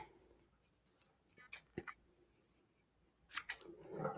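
Scissors snip off a short extra piece of twine while a rosary is being finished: a few quiet, sharp cuts come close together, then another cluster near the end, all soft and close with light handling noise.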